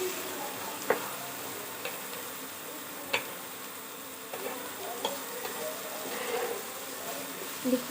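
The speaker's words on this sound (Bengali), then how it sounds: "এগুলো দেখুন কত সুন্দর করে ভাজা হয়ে গেছে। আমি আরেকটুখানি ভেজে নেব।" Cumin and chilli paste fries in a pan, a faint steady sizzle with a few soft scrapes and taps of stirring scattered through.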